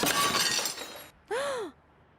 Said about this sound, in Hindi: प्लेट प्लेट टूट गई।